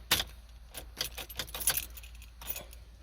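Car keys for a 2010-2015 Chevrolet Camaro with a no-power, no-crank fault jangle at the ignition in a series of close, bright metallic clinks and rattles, with a quiet background.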